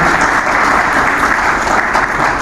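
Sustained, loud audience clapping at a Brahma Baba memorial day program, a continuous dense wash of hands welcoming a speaker with no break.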